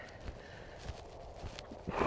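Hooves thud in a rolling, regular three-beat rhythm of a horse in working canter, moderately close, over a steady rushing background with no speech.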